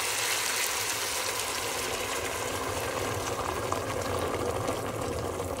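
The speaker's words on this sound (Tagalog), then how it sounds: "Yan, pinakulo ang tubig na yan siya, guys" Water comes to a boil with pork belly for sinigang, making a constant rushing, bubbling roar that stays steady and close for the whole stretch without speech.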